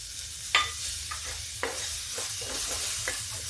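Onion hits a little hot oil in a pan, giving a steady close sizzle with a few scraping stirs of a spoon; no talk.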